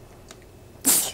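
A single short sneeze bursts out near the end, sharp and breathy, after a quiet stretch with only faint room noise.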